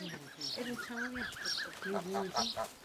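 Several geese being herded honk and cackle in quick overlapping calls, fairly close, some calls mixed with faint voices in the background.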